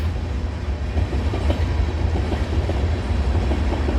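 A freight train carrying boxcars and lumber rolls past close by, giving a continuous heavy low rumble with steady wheel clatter throughout and no voices.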